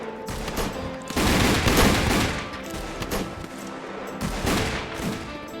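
Peacekeeper revolver fired in the Roblox Wild West game, a loud run of rapid, overlapping gunshots and blasts with dense crackling bursts, no speech.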